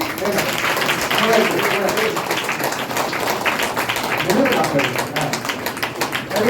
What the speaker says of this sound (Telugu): అందరూ గట్టిగా చప్పట్లు కొట్టి